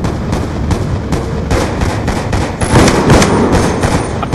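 Rapid gunfire in a video game: dense, continuous bursts of shots crackle loudly throughout, growing heavier near the end.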